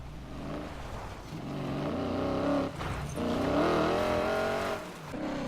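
A car in the video game Need for Speed Payback drives along, its engine droning and rising in pitch as it accelerates, with brief dips between surges and no voices.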